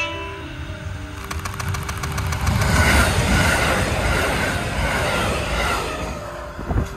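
A KiHa 85 series diesel limited express Hida rolls past close by, its engine roar and rhythmic wheel clatter building for several seconds, then easing off as the train goes by.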